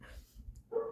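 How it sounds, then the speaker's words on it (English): A dog gives a single short bark a little distance away, following some low muffled background rumble. "I'm so sorry if you can hear my dog."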